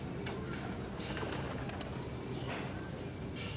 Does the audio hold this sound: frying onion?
no